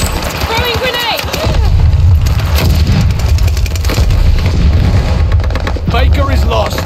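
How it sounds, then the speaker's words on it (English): Heavy boom of a grenade blast in Call of Duty: Vanguard multiplayer, loud and deep amid ongoing gunfire and explosions, with game voices shouting over the battle. "Throwing grenade!"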